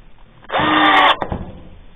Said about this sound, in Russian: И крепим направляющие прямо через корзинку к нашему донцу из ДСП. Вот так вот на 19 саморезы.